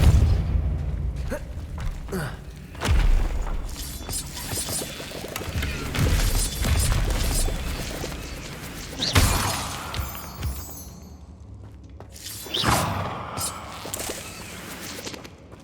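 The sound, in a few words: Depulso spell effect in Hogwarts Legacy video game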